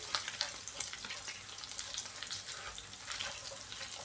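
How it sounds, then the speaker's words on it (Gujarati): Food sautéing on a slow flame in a pan while being stirred: a steady, close sizzle with soft scraping and small bursts from stirring, no voices. "એને આપણે એડ કરશું અને સ્લો ફ્લેમ પર એને સાતળી લેશું 2 થી 3 મિનિટ માટે"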